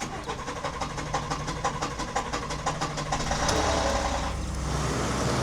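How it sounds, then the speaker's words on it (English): A truck engine cranks with a rapid, rhythmic churn, then catches and settles into a loud, steady running rumble close by. "I'm just gonna start out the truck"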